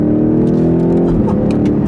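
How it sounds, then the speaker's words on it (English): A BMW X6M SUV's engine revs loud and close, holding a steady note before a brief dip and pickup as it shifts from first to second gear, with no talking. "First to second takes a little bit of a minute split second before it upshifts."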